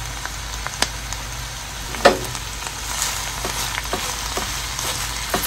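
Cabbage with seasoning sizzling in a very hot pan, a steady close frying hiss with small pops and one sharper crackle, with no voices over it.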